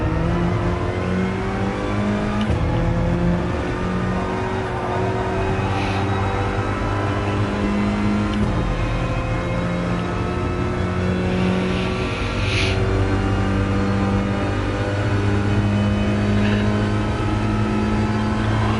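A race car engine drones steadily in a racing video game at Spa while the driver lifts, coasts and short shifts to save fuel. Gear changes break the sustained, loud tone with occasional dips and shifts in pitch.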